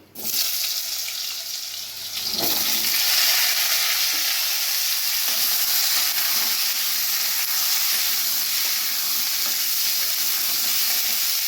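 Steady, loud sizzling of sweet potatoes frying in hot oil, a continuous crackling hiss that rises after a brief pause and holds evenly throughout.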